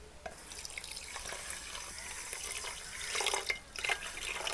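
Water running steadily from a tap and splashing into a pan holding half a kilo of sugar for apple murabba, a continuous bright hiss that swells louder near the end, with no voices.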